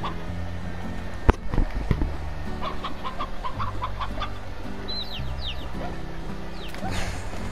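Chickens clucking in the video game Slime Rancher, a series of short, close clucks and squawks scattered irregularly over a low ambient game hum, with a sharp click near the start.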